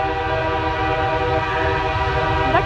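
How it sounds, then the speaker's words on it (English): A CN freight train in Port Huron sounds a loud, sustained multi-tone horn up close, the chord held throughout over rumbling rail noise. "Oh, it's a train."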